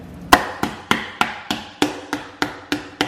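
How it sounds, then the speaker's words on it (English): Butcher's hammer pounding chicken thin under plastic wrap, ten sharp evenly spaced thuds at a steady brisk rhythm, close and alone with no talk. "I'm gonna take a butcher's hammer or a small saucepan, a rolling pin, whatever you got, and I'm just gonna beat it until it's thin"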